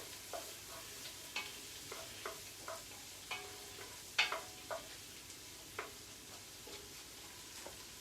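Onions sizzle softly in a pot as a spoon stirs them, scraping and tapping the pot in a loose, steady rhythm of small knocks over a faint frying hiss.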